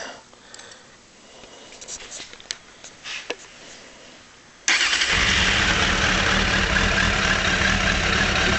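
A 2002 Suzuki GSX600F Katana 600 motorcycle, fitted with 2006 carburetors, cold-starts after a few seconds of quiet handling sounds, then settles into a steady, loud, close idle that runs to the end.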